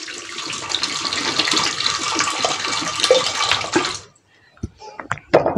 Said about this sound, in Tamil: கொஞ்சம் கூட தண்ணி ஊற்றிட்டு